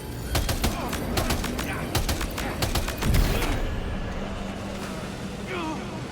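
Rapid bursts of gunfire in Death Stranding 2: On The Beach, a string of sharp close shots in the first half over vehicle rumble, with someone talking over the action.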